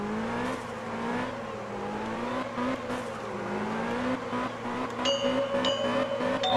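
Drifting car in the Absolute Drift video game, engine humming with wavering pitch as it slides through turns, continuous and close, with high-pitched game tones chiming near the end.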